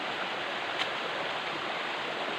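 A river splits around rocks into two streams, a steady broadband rush of flowing water that stays close and even throughout, with no voices over it.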